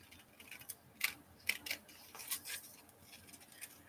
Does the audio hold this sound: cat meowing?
no